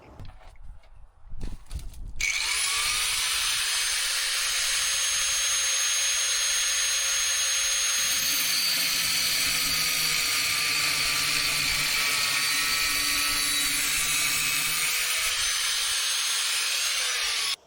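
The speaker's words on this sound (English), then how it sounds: "So all I've got to do now is drill a hole into this" A steel tube being drilled through with a power drill, a loud sustained grinding whine with a lower motor tone midway, continuous and close, no talk.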